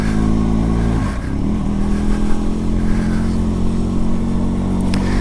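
A Benelli TRK 502X motorcycle rides along small country lanes at an easy pace, its engine a steady, close mid-pitched drone with a brief dip and then a constant hum.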